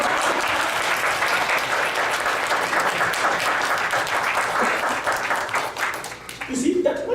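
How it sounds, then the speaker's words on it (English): A live audience applauds steadily and densely for a speaker at an opening speech, the clapping sustained for several seconds before thinning out near the end. "Can you clap for me?"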